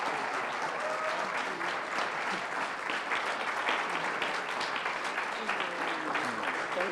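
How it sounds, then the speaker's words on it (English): A church congregation breaks into steady, full applause during a worship service, dense clapping filling the room for several seconds with faint voices murmuring underneath. "Can we give them a big applause?"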